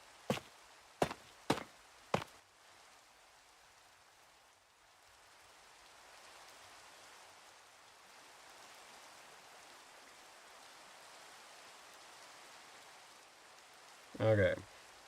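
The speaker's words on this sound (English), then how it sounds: "Instantly raining." Rain falling in Minecraft as a soft, steady hiss that fills most of the stretch, opened by a few sharp block-breaking clicks and closed by a short louder burst of nearby sound.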